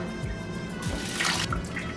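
Pureed chile pepper mixture for pozole poured through a strainer, a steady close liquid splashing and trickling with a brighter gush in the middle, no talk.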